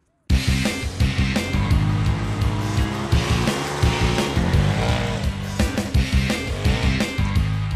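A 2018 Polaris RZR Turbo 4-seater side-by-side drives, its turbo engine roaring loud and close with revving rises and falls throughout and no talking.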